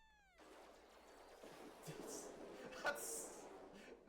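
A cat meows in the Final Fantasy XIV video game, a faint high mewing cry mixed with soft game effects and chimes, while a person talks over it.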